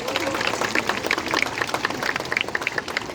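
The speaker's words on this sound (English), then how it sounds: "Give him another clap if you like. He loves the applause." An audience claps for a performing seal at a wildlife show, a scattered and fairly light patter of hand claps that continues steadily for a few seconds.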